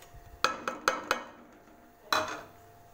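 A metal spoon clanks against a cooking pot as spices are mixed into meat with garlic, whole chilies, cumin, garam masala, crushed coriander and turmeric. Four quick knocks come first, then one more after a pause, close and alone.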